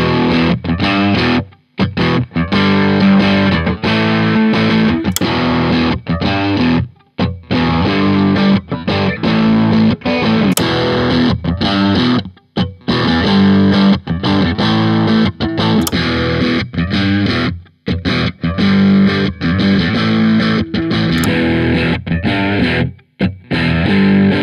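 Heavily distorted electric guitar plays chugging riffs through a 1x12 open-back Palmer speaker cabinet, loud and close, with brief pauses between phrases.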